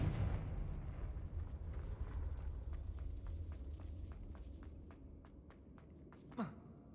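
A Confringo blasting spell cast in the Hogwarts Legacy video game gives a heavy, rumbling burst that slowly fades, followed by a string of crackling debris ticks and a short whoosh near the end.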